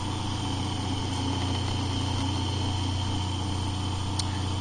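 A DC motor spins a permanent magnet AC generator, giving off a constant, close mechanical hum with a steady low tonal drone and even whine, unchanging throughout apart from one faint tick.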